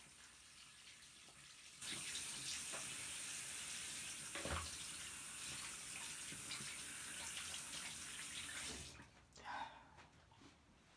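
A tap runs steadily while hands are washed at a sink, a continuous close hiss of water for several seconds before shutting off, then a brief splash.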